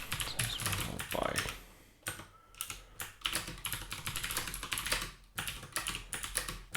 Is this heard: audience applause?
no